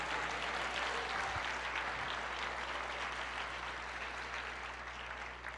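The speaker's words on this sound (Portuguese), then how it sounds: "Pode aplaudir o Senhor, dizer glória a Deus" A church congregation claps in praise, a broad, dense wash of applause filling the space steadily, with a low hum underneath and no voices rising above it.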